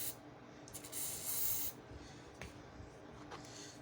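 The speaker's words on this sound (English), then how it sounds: "we'll just take my little spray here, spray this on there" A spray bottle of cleaner hisses in one short, soft burst up close onto a First Strike FSC less-lethal launcher, followed by faint rubbing and a couple of light clicks in a quiet room.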